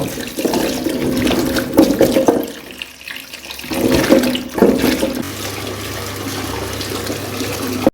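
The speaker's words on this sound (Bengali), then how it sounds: "ধোয়া হয়ে গেছে, পরিষ্কার করে ধুয়ে নিয়েছি।" Taro being washed under running tap water, with a loud rushing stream that breaks and splashes unevenly as the roots are handled, then settles into a steadier flow.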